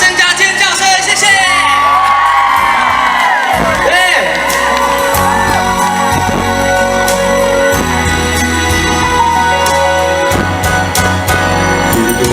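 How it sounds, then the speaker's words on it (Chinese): A concert audience at an outdoor summer festival show in Pingtung, Taiwan, cheers, whoops and screams continuously and loudly over music playing throughout. "给自己的掌声加尖叫声"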